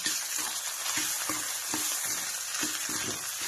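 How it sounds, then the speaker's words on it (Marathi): Potatoes frying in a pan for sabudana khichdi, a steady close hiss of sizzling oil with faint stirring scrapes and small pops throughout. "बटाटा पण चांगला मस्त फ्राय करून घ्यायचा"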